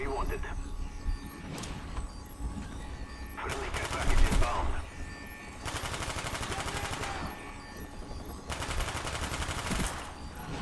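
Bursts of rapid gunfire from Call of Duty: Black Ops come in several volleys, loud and dense, with a voice talking between them.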